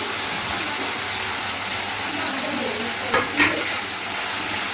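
Spice paste of cumin, ginger and coriander frying hard with meat in a pan over a raised gas flame, a loud steady sizzle throughout with a couple of brief stirring scrapes near the end.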